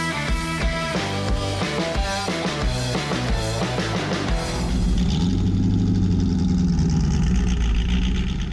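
A 1982 De Tomaso Pantera GT5 V8 idles with a deep, steady rumble, heard close and alone after a few seconds of music.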